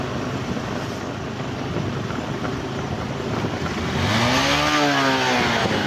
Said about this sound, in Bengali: এই সামনে একটা বাইক গেল, আমি দেখছি না যে সামনে একটা বাইক আছে